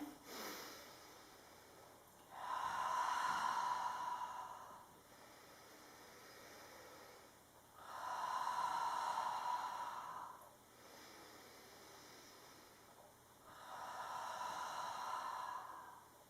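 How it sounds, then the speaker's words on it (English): Slow, deep belly breathing during a children's relaxation exercise: three long, soft breaths, each swelling for about two seconds then fading, evenly spaced and close, with no talk. "So breathing into your tummy."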